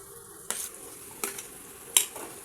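Boiled potatoes tossed in masala in a pan for batata vada, with soft frying sizzle and three distinct scraping stirs of a spatula against the pan, fairly quiet.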